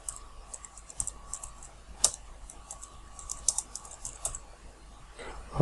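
Computer keyboard typing, a steady run of light clicks with a few sharper key strikes, close and fairly quiet, with no talking over it.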